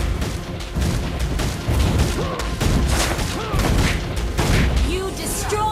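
Video game combat in which gunfire and explosions destroy a turret, with repeated booming blasts and a crackle of shots that rise and fall in loud waves, while a voice speaks in the background.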